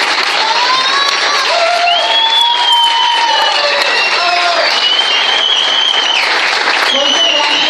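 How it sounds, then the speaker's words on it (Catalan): Sustained, loud applause from the audience at a 20th-anniversary gathering of the Penya Barcelonista Benissa, honouring the club presidents, steady throughout with crowd noise. "Un fort aplaudiment per a ells."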